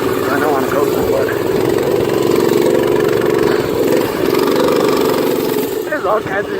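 Minibike engine running steadily through a trail ride in the woods, a continuous loud motor drone with slight rises and dips in revs, close by and filling the whole stretch, with rustling and bumps from the ride.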